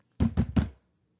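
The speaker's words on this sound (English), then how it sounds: "suddenly there was a banging at the door." Three loud, heavy bangs of a knock on a door in quick succession, each a deep thump, followed by silence.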